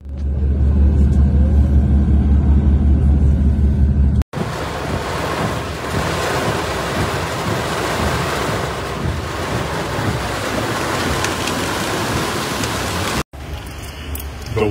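Rushing floodwater during a flash flood in New York, a steady loud roar of churning water and wind buffeting the microphone, briefly cut off twice, with a low rumble throughout and no talk.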